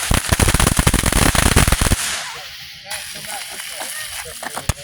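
A fast burst of firework crackles, dense rapid pops for about two seconds, then a hissing fizzle with a few scattered snaps and a final sharp bang, close and loud.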